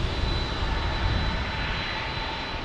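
An airliner's jet engines roar during takeoff at San Diego, a loud, steady, broadband rush that holds without letup, close by and alone.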